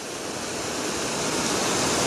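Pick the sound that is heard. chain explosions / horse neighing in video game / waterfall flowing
waterfall flowing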